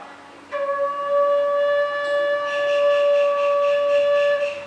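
A Thai khlui flute sounds one long, steady note, Mi, bright and sustained, with breathy overtones creeping in halfway through.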